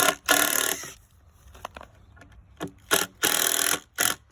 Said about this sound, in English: Add my fastener using 2-inch galvanized screws.